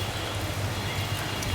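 Rain falls steadily beside a house veranda, making a continuous, even wash of patter with a soft low rumble beneath it and no voices.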